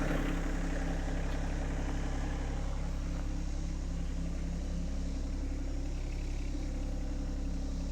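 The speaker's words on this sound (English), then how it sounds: "it's important to let it run at a low idle to help the cooling system bring down the engine temp" A stump grinder engine runs at low idle after hard work, a steady, low, even rumble held close throughout with no voices.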